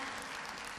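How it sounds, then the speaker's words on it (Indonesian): Audience applause at a stock market seminar held at PermataBank, a dense steady clapping that fills the whole moment at moderate volume with no voices over it. "Kita berikan tepuk tangan untuk Ibu Melisa yang mau bertanya."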